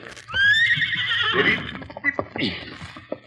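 A horse whinnies in a long rising and falling call, followed by snorts and hoof clatter, with voices around it.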